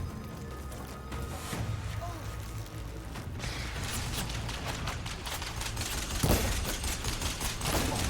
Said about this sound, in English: Can you imagine getting pummeled by this many arrows?